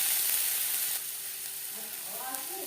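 Sizzling and frying of spices with turmeric and salt as they are stirred in a pan for a fish curry, a steady hiss throughout with faint scraping toward the end.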